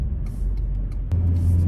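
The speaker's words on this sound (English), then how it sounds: "Why is there so much traffic for it being 2 p.m.?" Road traffic around a car at two in the afternoon, a continuous low rumble with a vehicle surging louder partway through and faint clicks and knocks on top.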